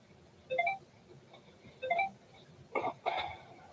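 A phone notification chime sounds repeatedly, a few short tonal beeps in separate bursts, faint in a quiet room with no talking.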